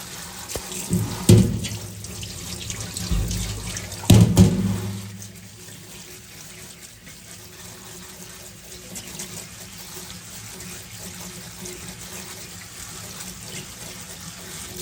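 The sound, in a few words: rinsing redbud blossoms under running tap water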